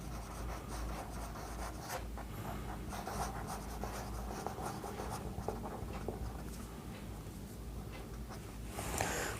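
A pen scratches out a geometry proof by hand on paper, in continuous close strokes with short pauses, fairly quiet and with no talking.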